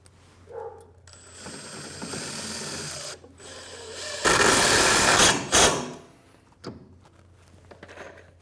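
A screwdriver drives screws into the sides of a pivot door box: bursts of whirring motor sound, one long, louder run in the middle, and short clicks and taps between them, close by with no talking.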